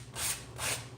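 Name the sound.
sanding block rubbing painted furniture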